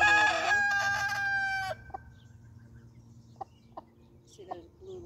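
An American Bresse hen crows loudly and close in a harmonic, drawn-out call lasting under two seconds, followed by a few short scattered clucks over a quiet background hum.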